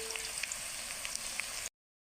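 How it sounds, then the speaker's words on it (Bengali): Onions frying in oil in a wok make a soft, steady sizzle dotted with small crackling pops, heard alone for under two seconds before it stops. "প্রথমে আমি কড়াইয়ের মধ্যে পেঁয়াজ আর তেল দিয়ে পেঁয়াজটা লাল লাল করে ভেজে নেব।"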